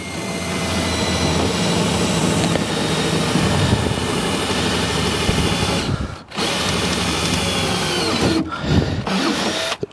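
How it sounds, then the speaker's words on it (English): A power drill runs continuously while boring holes through a Marlon boat for a windshield installation, a loud, steady whine that briefly drops out twice before resuming. "Getting a little faint on the drill there."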